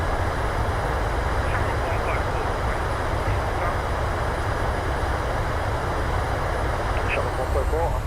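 Simulated PMDG Boeing 737-800 in Microsoft Flight Simulator rolling out after landing at Dublin with reverse thrust, a loud continuous jet roar filling the whole stretch, with a cockpit voice talking over it.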